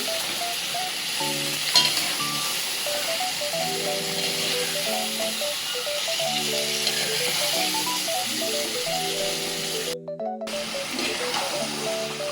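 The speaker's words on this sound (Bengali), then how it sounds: "এই যে এখন কষাবো ভালোভাবে" Pressure-cooked beef with fried onion and potato sizzles steadily in a pan, a continuous hiss with occasional stirring, while a tonal background runs underneath.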